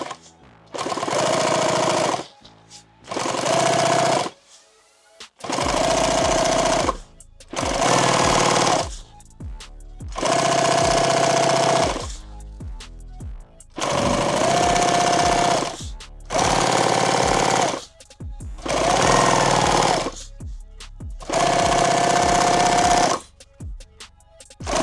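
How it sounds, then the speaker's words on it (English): A sewing machine stitches a padded OD green war belt in repeated loud, steady bursts of rapid mechanical hammering, each lasting one to three seconds, separated by short pauses, with no voices. "We're going to sew this right here in half."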